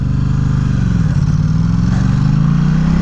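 Honda CBR 250R motorcycle being ridden, its engine humming steadily at close range with a slight pitch dip and rise midway, loud and continuous with no voices.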